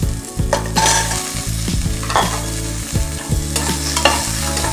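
Onions and vegetables for sambar sizzle loudly in a hot pan while a utensil stirs and scrapes them, a steady frying hiss throughout with no voices.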